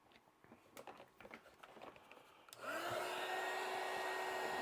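A heat gun starts up partway through and runs as a steady loud blowing roar while melting solder sticks and heat shrink on wiring for a Polaris General, after a stretch of quiet handling noises.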